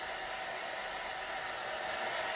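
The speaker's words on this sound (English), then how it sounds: "So I'm just using a hair dryer" A hair dryer blowing steadily to dry chalk paste during a layering craft project, a close, constant whooshing hum that does not change for the whole moment, with no voices.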